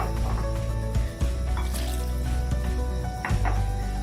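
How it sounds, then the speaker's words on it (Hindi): About 1.5 glasses of water pours and splashes into a pressure cooker with gurgling and sloshing, a short steady stream broken by a couple of dull knocks. "मैं इसमें थोड़ा पानी और ऐड करूंगी"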